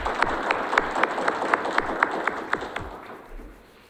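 Audience at a formal Waiter's Day ceremony clapping in a steady, regular rhythm, distinct sharp beats roughly four per second over a softer crowd bed, fading away toward the end.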